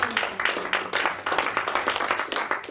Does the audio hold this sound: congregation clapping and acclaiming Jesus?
yes